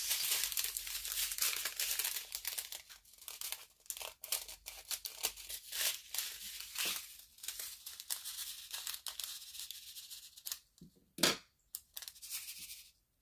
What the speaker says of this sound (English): Now we need to cut more colors off the strip.